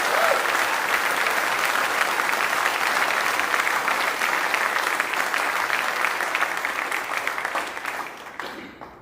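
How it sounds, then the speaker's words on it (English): An audience at a school arts awards ceremony gives a round of applause for a Year 9 award winner, sustained dense clapping that holds steady and then tapers off toward the end. "So another round of applause for Michael."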